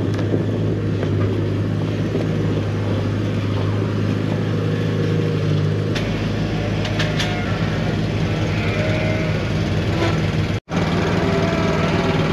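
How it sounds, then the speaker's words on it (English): A heavy diesel tractor engine runs at a steady idle close by on a farm, a constant loud rumble with a brief dropout near the end. "So I back the tractor over here"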